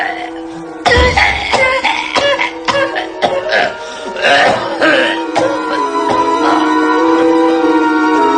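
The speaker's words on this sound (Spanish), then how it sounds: "acuciado por un ataque de tos bronca atronadora" Harsh, thundering fit of coughing as a radio drama sound effect, with repeated loud rasping coughs that rise into a drawn-out wheezing, moaning throat sound at the end.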